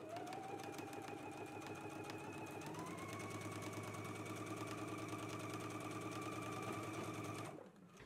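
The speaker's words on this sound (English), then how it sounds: "you can do an edge stitch as well as a top stitch along the seam" A sewing machine top stitches a seam on a yoke, running continuously at an even speed with a close, steady motor hum and rapid needle chatter before stopping abruptly near the end.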